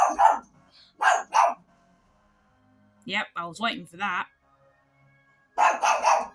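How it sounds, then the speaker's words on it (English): A dog barks nearby in short bursts indoors, several barks spread across the stretch and alternating with a person talking. "Oh, there's my dog."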